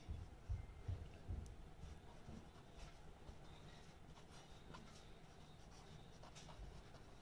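A pen scratches steadily across paper during a physics lesson, with faint, continuous writing strokes against quiet room noise.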